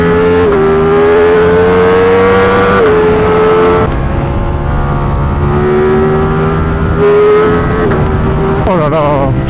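A 2024 Ducati Streetfighter V4S motorcycle with its V4 engine accelerating hard, loud and close, the revs rising and falling through several quick gear shifts in a sustained roar.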